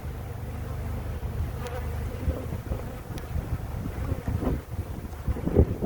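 Honeybees buzz around an open hive during an inspection outdoors, a low steady hum with wind noise on the microphone and occasional close passes and knocks.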